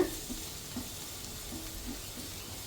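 Ingredients fry gently on a low flame in a pan while making dragon chicken, a faint, soft steady sizzle with a few light stirring touches, quiet and close with no voices.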